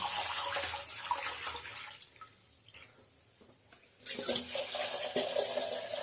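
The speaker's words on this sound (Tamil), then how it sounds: "நல்லா ஒரு 5-6 வாட்டி கழுவணும்." Parboiled rice is washed in water for idli, with close sloshing and dripping that drops away briefly in the middle before the splashing returns strongly.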